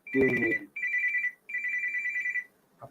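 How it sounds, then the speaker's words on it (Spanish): A telephone rings close by with three bright electronic trilling bursts separated by short gaps, starting over a brief voice and ending with a soft click. "apago acá que me suena un teléfono"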